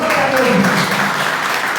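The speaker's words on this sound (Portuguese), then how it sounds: "Tem uma linda salva de palmas para Jesus." Applause at a church service in Nova Russas: a dense, steady wash of clapping that fills the space from start to finish, with voices carrying faintly over it.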